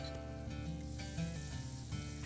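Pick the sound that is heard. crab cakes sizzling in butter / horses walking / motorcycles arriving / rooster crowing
crab cakes sizzling in butter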